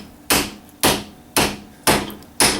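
Five sharp metallic hammer taps peck at the end of a threaded rod or bolt, struck at a steady rhythm about half a second apart, each a loud close ringing hit with no talking.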